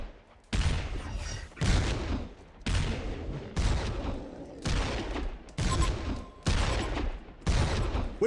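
Bursts of heavy gunfire in a fantasy battle video game, loud volleys that start abruptly, rattle for about a second, then drop off, repeating roughly eight times in a regular rhythm.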